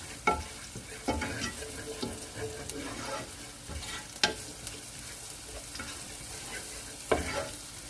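Garlic and onions sautéing in a pan, a soft sizzle broken by scattered clacks and scrapes of a utensil stirring, fairly quiet and close with no talking.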